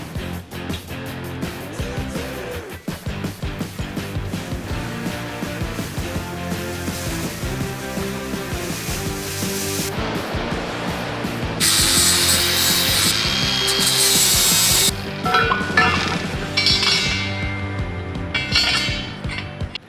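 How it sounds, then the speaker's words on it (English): Thread tap run through a bolt hole in a steel bracket on a farm truck axle, a loud continuous grinding, rasping scrape with rhythmic strokes, close and uninterrupted by talk. "I'm gonna run the tap through it really quick just to make sure the bolt will still go in."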